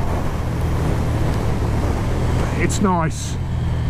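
KTM Super Duke R 1290 V-twin motorcycle (2020) cruising with a steady, smooth low engine drone and wind rush throughout, while a rider speaks briefly near the end.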